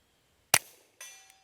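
A Walther PPQ M2 .22 LR pistol fires one sharp shot outdoors at a steel target about 100 yards away, followed about half a second later by a faint metallic ring and a short trailing echo.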